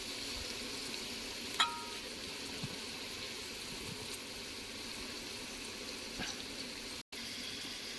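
Onions and tomato sizzle steadily in oil for a fish curry, a continuous frying hiss with a few light clinks of stirring and no talk.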